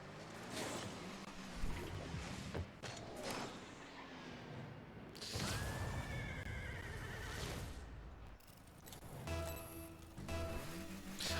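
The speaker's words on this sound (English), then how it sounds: "Why is there a horse?" Horse neighing in the Rocket League video game, several loud whinnies with clip-clop hoofbeats amid game effects and bursts of noise, no talk.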